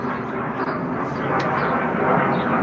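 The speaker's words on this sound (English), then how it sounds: "yay, airplane!" A big silver jet flies overhead near Phoenix, Arizona, giving a broad, fairly faint roar that builds gradually across the moment, with a voice heard briefly in the background.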